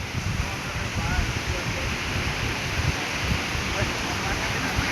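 Rough sea waves crash at Pantai Cenang beach, Langkawi, in rainy, stormy weather, forming a constant loud roar of surf mixed with wind noise.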